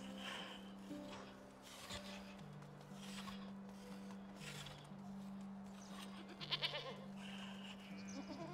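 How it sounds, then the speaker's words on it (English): Baby goats bleating in the medieval farming game Medieval Dynasty, several faint, short cries scattered over a quiet droning game soundtrack with sustained low tones, without speech. "Oh, look at the baby goats."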